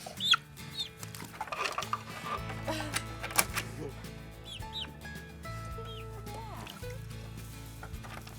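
Grown chickens just out of a brooder cluck softly with scattered higher calls over a steady low hum, faint and intermittent throughout.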